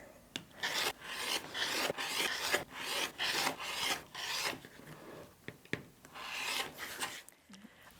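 Fabric quilt block pieces trimmed with a rotary cutter against a ruler, giving repeated close scraping, rasping strokes in quick bursts, then a few sharper clicks and taps as the pieces are handled.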